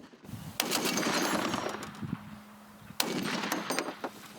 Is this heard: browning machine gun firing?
yes